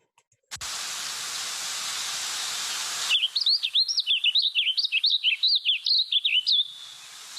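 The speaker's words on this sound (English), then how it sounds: "So I believe that's a house finch" A house finch sings a rapid warbling run of varied, too-fast-to-count notes, clear and fairly close, after a few seconds of steady broadband hiss that cuts off abruptly.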